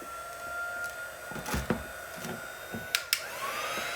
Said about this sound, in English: a hair dryer for projects when you just want to dry them quick